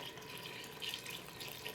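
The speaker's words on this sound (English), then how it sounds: "And now put the chicken broth in." Chicken broth poured from a carton into a soup pot for Italian-style lentil soup, a steady close liquid gush with gurgles, no talk.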